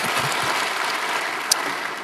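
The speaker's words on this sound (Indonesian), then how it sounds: "Berikan tepuk tangan kita untuk Tuhan kita." A church congregation applauding together, a steady dense wash of clapping that carries evenly from start to finish, with a single sharp knock partway through.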